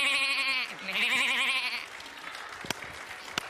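A human voice imitates a sheep, giving two long wavering bleats in a row, loud and close, followed by a couple of faint clicks.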